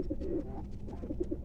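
A domestic fancy pigeon coos softly in low, rolling murmurs, faint and close, over a quiet room background.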